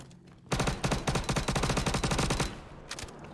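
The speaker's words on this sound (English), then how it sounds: "Like that guy there is trying to shoot me." Rapid bursts of automatic gunfire from enemy players in the video game Star Citizen, close and loud, a dense string of shots lasting about two seconds before a brief trailing volley.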